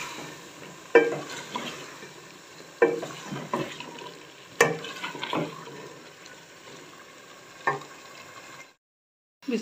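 Cauliflower and potatoes stirred in a pan at home, a soft scraping and shuffling under a low background sizzle, with several sharper spoon knocks against the pan spread through, close and fairly quiet, then a brief silence at the end.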